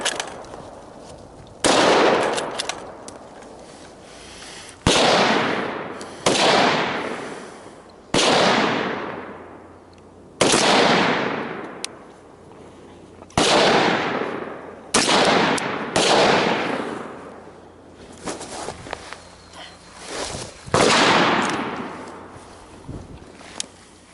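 Rifle shots on a scout marksman course, about ten sharp, loud reports in uneven pairs and singles, each ringing out in a long decaying echo across open ground.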